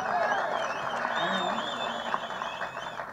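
An audience at a Tamil film event applauds with sustained, dense clapping that hangs at an even level for a few seconds, while a faint tone wavers above it.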